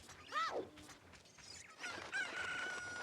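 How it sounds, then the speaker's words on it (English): Chickens in Zelda: Ocarina of Time cluck and squawk in short bright calls, one rising crow-like cry then scattered clucks over a steady game background, with no voices. "we just have to collect some chickens now"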